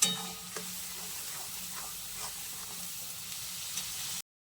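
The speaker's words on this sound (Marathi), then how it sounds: "आता फ्राय करून घेऊया छान तेलामध्ये गॅस फास्ट ठेवला तरी चालेल" Steady sizzling hiss of cauliflower and peas frying in hot oil over a high flame, continuous and fairly quiet, with faint stirring clicks, then it cuts off abruptly.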